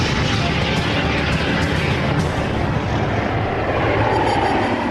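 A Lockheed F-117 Nighthawk stealth jet flies past with a broad, rushing engine roar that holds steady at a moderate distance throughout.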